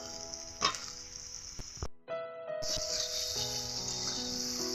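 Fried potatoes added to a pan of spices for a vegetarian soybean curry: a steady close sizzle with clattering stirring, a brief dip as they go in, then louder continuous frying.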